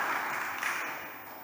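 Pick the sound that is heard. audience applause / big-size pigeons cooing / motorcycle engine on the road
audience applause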